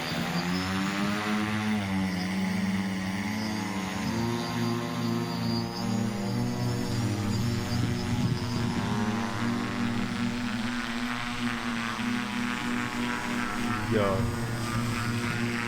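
A cardboard model airplane's electric propeller motor runs with a steady, continuous whir and drone at moderate loudness for the whole stretch, while people talk over it.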